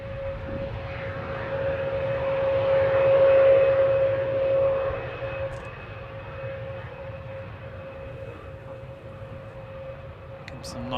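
Distant Aegean airliner jet engines at Manchester Airport, a broad steady roar with a sustained whine that swells for a few seconds then eases back, heard outdoors without talk.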